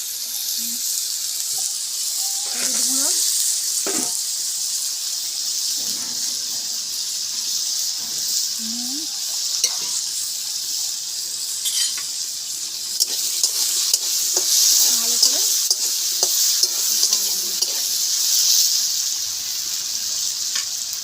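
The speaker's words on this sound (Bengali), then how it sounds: "আলুটা ভেজে নিয়েছি আমি তুলে" Potato pieces fry in oil for a Bengali soybean aloo posto, a soft continuous sizzle with occasional scraping and clinks of a utensil against the pan, close and moderate in level.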